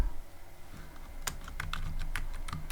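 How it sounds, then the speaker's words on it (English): Keys clack on a computer keyboard in a short, uneven burst of typing, a handful of crisp close taps spaced irregularly over quiet background noise. "I'm gonna type"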